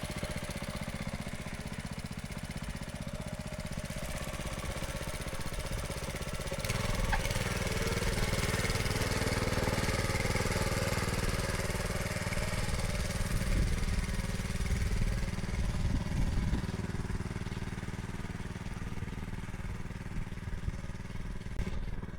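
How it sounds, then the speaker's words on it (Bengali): Small hand tractor engine ploughing a field, a steady close chugging drone that grows rougher and louder partway through as the machine works, continuing without a break. "ছোট্ট মেশিন, হ্যান্ড ট্র্যাক্টরের মতো, কীভাবে চাষ হয় দেখো"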